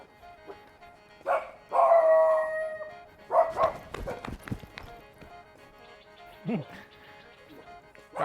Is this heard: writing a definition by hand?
no